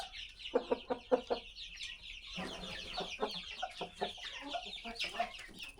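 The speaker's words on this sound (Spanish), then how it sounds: "¡Miren esto! ¡Pollitos! ¡Qué pequeñitos!" Chicks on a farm in Galicia, Spain peep in quick bursts, a run of short high calls early on, then more scattered chirps over a soft rustling background.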